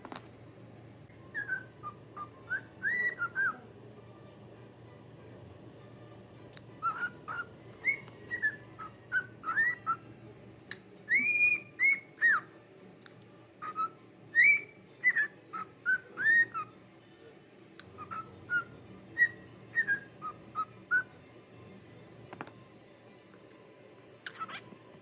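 Pet bird whistling indoors: a long series of short, bright chirping whistles in bursts with brief pauses, fairly clear against a quiet background hum and with no talk over them.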